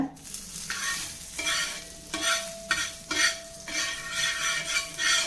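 Chapati tacos fry with butter on a dosa griddle, sizzling steadily while a utensil scrapes and stirs at the pan in repeated strokes, heard close up.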